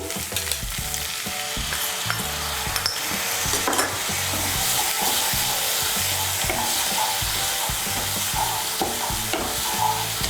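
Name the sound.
spice paste frying and being stirred in oil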